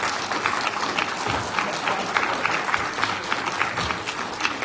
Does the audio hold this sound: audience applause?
yes